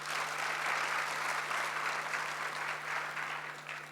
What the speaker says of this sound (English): Can we give them also a big applause?